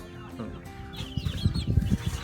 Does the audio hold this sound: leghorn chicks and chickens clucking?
yes